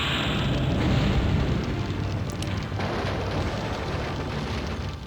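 A power generator and fuel tank blow up in the video game MechCommander, giving a sustained, dense roaring blast with crackling rumble that slowly fades, heard alone at moderate volume.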